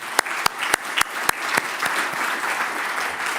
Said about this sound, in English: she deserves an applause on her own